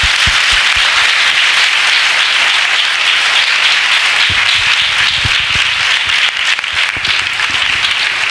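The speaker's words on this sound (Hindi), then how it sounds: "आइए हम अपने प्रभु के लिए एक अच्छी ताली बजाएंगे।" A church congregation claps loudly together for a sustained stretch, a dense, even roar of many hands close by.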